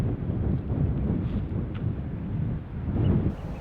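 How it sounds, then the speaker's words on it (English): Strong wind blows outdoors, buffeting the microphone with a continuous low roar that swells and eases in gusts, with no voices. "The wind is quite strong and it's blowing lots of cloud and weather systems to us."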